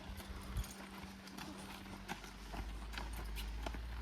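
Draft horses being ridden outdoors on a summer day, their hooves clip-clopping in an irregular walking rhythm at moderate distance, with faint breathy movement noise around them.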